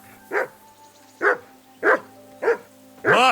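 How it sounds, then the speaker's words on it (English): A dog in the medieval role-playing game Kingdom Come Deliverance 2 barks five times in sharp, evenly spaced bursts, close and clear, with the last bark the loudest. "That barking was a pain in the ass."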